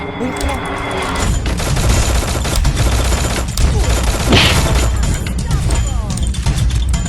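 A Thompson submachine gun in Garena Free Fire fires continuously in dense, rapid bursts that hold fairly loud for the whole stretch, with a voice talking over the gunfire.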